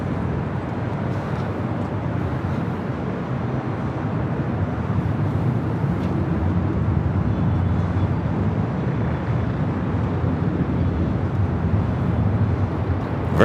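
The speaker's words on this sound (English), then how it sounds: "Virgin Flight 7 coming in from London Heathrow, arriving on the south side" A Virgin airliner arriving at LAX from London Heathrow produces a broad, steady roar of jet noise that swells gently, heard from a moderate distance with some wind rumble and no talking.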